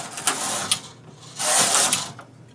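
Domestic knitting machine knitting two rows, two loud sliding carriage passes with mechanical rasping and clicking, each about a second long, separated by a short pause and ending in a quiet tail.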